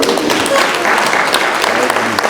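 Audience clapping in a church teachers' college hall, a dense, fairly loud spread of many hands applauding together throughout.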